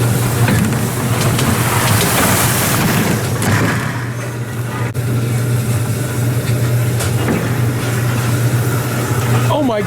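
Water sprays inside the car wash section of an amusement park car ride, a steady broadband hiss like heavy rain on a surface. A low ride hum and faint voices sit underneath.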